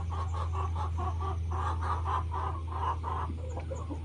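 Several large-breed chickens cluck steadily in a homestead flock, a busy run of close, overlapping calls over a constant low hum, with no talking.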